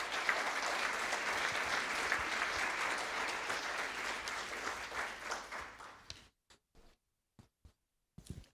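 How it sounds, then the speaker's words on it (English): Sustained applause from the audience at a school board meeting, fairly faint and distant, fading out after about six seconds into near silence with a few scattered last claps. "Let's give them another round of applause."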